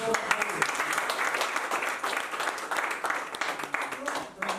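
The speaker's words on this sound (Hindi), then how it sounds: "सबसे लिए जोरदार ताली अड्डा लेवन के लिए" Staff at an Adda11 office opening celebration break into loud, vigorous applause, dense clapping with cheers and voices mixed in, surging and easing over several seconds.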